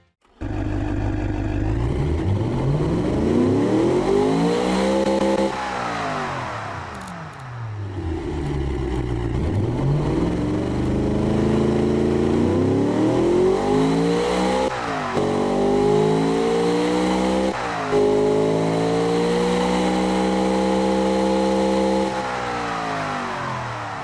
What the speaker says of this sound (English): let's get a listen to what this tiny V8 engine has to sound like right now.